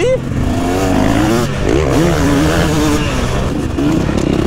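KTM 300 SX two-stroke motocross bike revving and climbing through the gears out on the track, a raspy, buzzing engine note that rises and falls with shifts, loud and continuous, with a voice talking over it.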